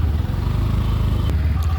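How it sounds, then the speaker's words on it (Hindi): A Hero Glamour X 2025 motorcycle engine, which starts on the self-starter, runs with a close, steady low rumble throughout and a brief faint click near the end. "एक बार इसकी इंजन की साउंड और सुन लेते हैं"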